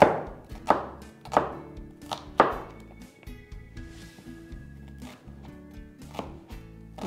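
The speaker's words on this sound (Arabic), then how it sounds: "هنقطع البصل." A knife chops onions on a cutting board in a kitchen, sharp close taps in an uneven rhythm, a few louder strikes followed by quieter, steady chopping.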